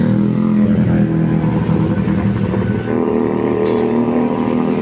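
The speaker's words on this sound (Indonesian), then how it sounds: "Nah ini dia PO Sinar Jaya mulai datang satu armada dari arah Kamunganten masuk terminal Karangpucung" A Sinar Jaya coach bus rolls into Karangpucung bus terminal, arriving from the Kamunganten direction. Its diesel engine gives a steady, loud low rumble that holds throughout with no talk over it.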